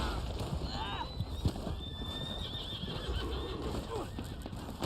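A horse in the Red Dead Online video game neighs and whinnies in a rising, wavering call over clip-clopping hooves, with faint game sounds beneath.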